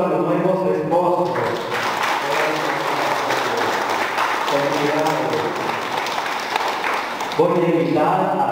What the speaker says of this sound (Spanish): vamos a darle un fuerte aplauso a los nuevos esposos